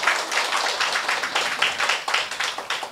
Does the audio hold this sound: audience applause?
yes